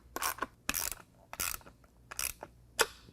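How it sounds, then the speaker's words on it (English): A ratchet fitted with a 10mm socket tightens the bolt on an awning bracket for a RealTruck Overland awning, making five short bursts of clicking separated by brief pauses, close and fairly quiet, with no voices. "So I'm going to go ahead and lock that down at 10 inches. Use a 10mm socket."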